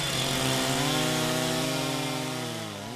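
A chainsaw cuts into a large oak being felled by hand, removing the buttresses at the base. It runs loud and steady with a sustained, slightly wavering engine whine, then eases off a little near the end, with no voices.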